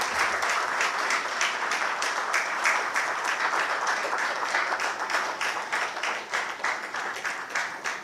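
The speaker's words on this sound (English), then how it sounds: "Please let's receive our IGP with a clap" A conference audience at a police regional command conference claps to welcome the Inspector General of Police, producing many-handed, moderately loud applause with a steady texture that thins slightly toward the end.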